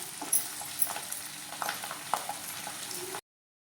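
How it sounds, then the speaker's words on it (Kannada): Chopped onions sizzling in oil in a pan for vangi bath, a soft steady fry with scattered crackles and pops, moderately close, then cutting to silence near the end; no talk. "ಇದನ್ನು ಸ್ವಲ್ಪ ಬಣ್ಣ ಚೇಂಜ್ ಆಗೋವರೆಗೆ ಫ್ರೈ ಮಾಡ್ಕೊಳ್ಳೋಣ"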